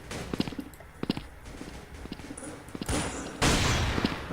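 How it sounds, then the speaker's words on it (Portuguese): In the video game Blood Strike's zombie mode, an LR4 sniper rifle fires sharp, isolated shots among lighter footsteps and clicks, followed by a louder sustained burst of noise toward the end. "Vamos testar essa sniper aqui."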